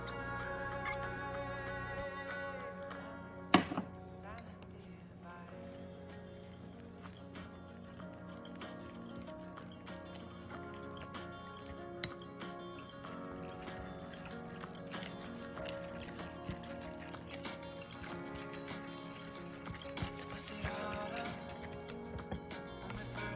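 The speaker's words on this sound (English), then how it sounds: "let's mix the wet ingredients with the dry ingredients" Wet and dry ingredients for pumpkin cream cheese muffins are stirred together in a bowl, soft squelching and wet slapping strokes with faint clicks of the utensil, quiet and close.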